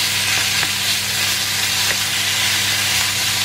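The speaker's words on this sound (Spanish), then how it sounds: "Y vamos a ir cocinando por aquí la carne." Meat frying in extra virgin olive oil in a pan that previously held mushrooms, giving a steady, loud, close sizzle with a few faint clicks and no talking.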